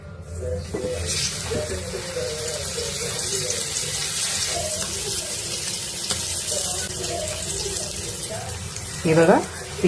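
Surmai and bangda fish marinated in Malvani masala, salt and lemon fry in a pan with a steady close hiss and sizzle, with a brief scrape near the end.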